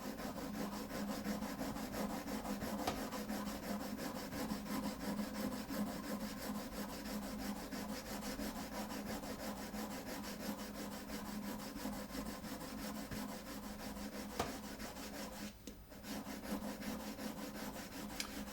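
Metal printmaking tool sharpened on a fine sharpening stone to remove scratches, a steady continuous rubbing and scraping that keeps going without pause at a moderate, close level.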